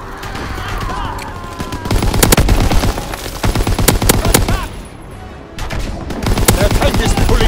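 Call of Duty WW2 gunfire during a tank battle, loud dense bursts of rapid automatic shots and single cracks close by, with a brief lull midway before firing resumes, a voice shouting in the mix.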